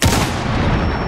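A gunshot from the Rainbow Six tactical shooter game lands as one loud, close boom that rings out and stays as a dense, sustained blast for about a second, with no talk over it.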